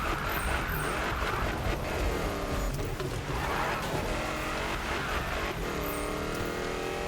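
Racing-game engine noise from a Ford Mustang Boss 302 RTR in Need for Speed, a loud, steady high-revving roar with shifting pitch and brief tire squeal, continuous throughout.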